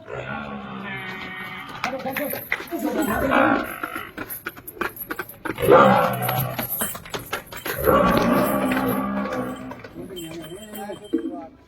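A buffalo lows on a farm in short, deep calls, heard close under steady, overlapping talk from several people.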